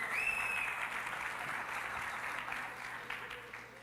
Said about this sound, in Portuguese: Primeiro palmas para a calça do Dé,